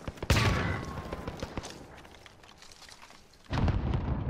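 Gunfire crackles in Call of Duty Warzone, with a sharp loud blast followed by scattered shots and echoing booms that fade and then swell again into a heavy burst of fire.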